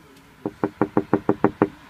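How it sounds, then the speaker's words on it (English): Eight quick, evenly spaced knocks on a wooden surface, close and fairly loud, in a steady rhythm with no voices. "knock on wood"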